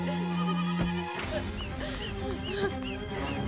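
A goat kid bleats in a series of short wavering cries over a busy, noisy outdoor background, following a steady low tone at the start.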